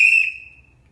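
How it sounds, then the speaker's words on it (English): A single clear, high whistle, loud and close, holds for about half a second before fading away into quiet. "The first sound is whistling."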